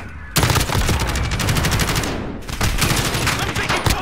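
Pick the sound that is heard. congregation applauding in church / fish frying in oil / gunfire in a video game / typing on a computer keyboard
gunfire in a video game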